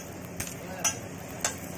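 Bread roasts in ghee on a street-food hot dog griddle, a low steady sizzle broken by three quick scraping or tapping strokes.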